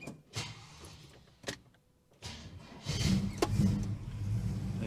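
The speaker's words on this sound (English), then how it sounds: "we're going to do a cold start" A Holden HK engine cold-starts on a cold morning with a slightly weak battery: a few clicks and knocks, then a burst of cranking that catches into a steady, close, low rumbling idle.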